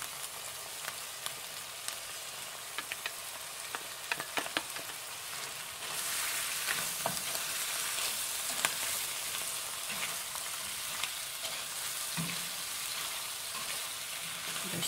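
Shrimp frying with curry spices in a pan produce a close, steady sizzle, with sharp clicks of stirring early on before the frying swells and carries on evenly.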